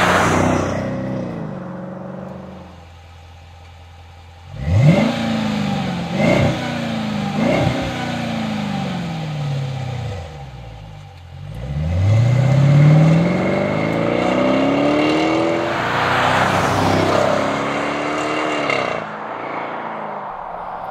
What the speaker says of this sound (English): it will typically produce a deep performance tone on the outside with a mild to moderate interior sound level